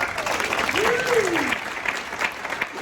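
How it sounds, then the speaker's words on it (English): A live business-mentoring audience applauds Justin, a short burst of crowd clapping with a voice rising and falling over it in the middle. "Can we give Justin a big round of applause?"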